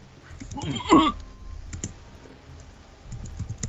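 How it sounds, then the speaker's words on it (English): Hard, heavy typing on a computer keyboard: a scattered run of sharp clicks and clacks, fairly close, with a brief louder burst early on and faint background noise between keystrokes. "you're typing really hard again."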